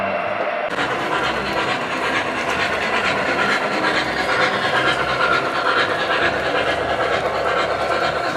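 Model railroad trains run through a large indoor layout in San Diego, giving a steady, loud mechanical rumble and rattle with faint hiss that fills the scene from start to finish.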